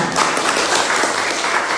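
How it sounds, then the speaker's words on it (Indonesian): A crowd breaks into steady, dense applause, many hands clapping together at close range for a couple of seconds. "tepuk tangan buat Anda"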